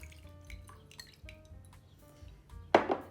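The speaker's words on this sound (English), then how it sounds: "we are going to rinse them off" Water rinsing sprouting seeds in a drinking glass, heard as gentle drips and light clinks of glass, ending in a brief louder splash of running water.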